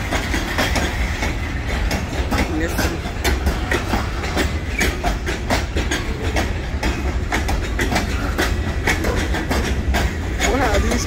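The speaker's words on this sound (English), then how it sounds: "Wow, these are some long trains." Long freight trains roll past from the rail yard, a loud continuous rumble with rhythmic clickety-clack of wheels over rail joints throughout, and a person speaks briefly over it.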